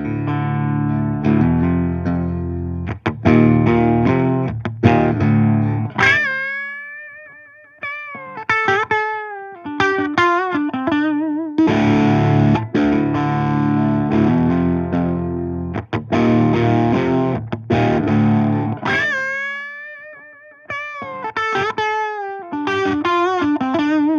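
Electric guitar played through a Rodenberg Commander II distortion pedal and a looper, with layered rhythm chords and sustained, bending lead notes, loud and continuous with brief dips between phrases.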